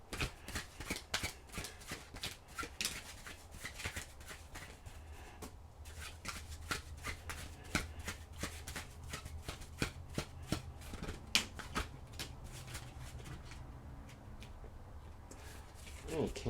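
Tarot cards shuffled by hand in a long run of crisp, rapid riffling and flicking bursts, steady and close, with no talking.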